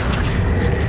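An Accio spell cast in the video game Hogwarts Legacy gives a single dense, low booming whoosh with a bright shimmering edge, loud and sustained for about a second without a clear attack.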